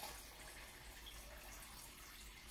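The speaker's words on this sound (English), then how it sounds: "fill this about halfway, put the top on, shake it up." Water pours steadily from a tap into a hydration bladder, a constant close hiss and splash with no breaks for the whole short stretch.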